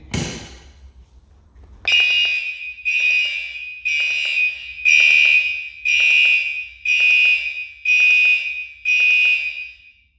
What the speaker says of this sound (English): Let's test this last pull station.